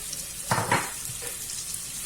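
Diced apples sizzle in melted butter with vanilla sugar in a pan, with a soft steady frying hiss and a couple of brief stirring scrapes near the start.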